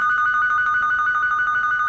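A telephone rings on a comedy sketch stage, a steady electronic tone sounding continuously and fairly loud, with no talk over it.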